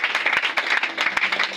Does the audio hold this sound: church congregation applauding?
yes